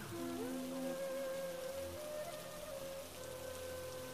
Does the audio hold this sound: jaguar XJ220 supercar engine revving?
no